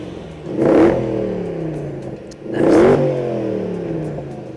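A Range Rover engine revs twice at close range, each rev a loud, rising roar that falls away again, with a lower idle rumbling between them.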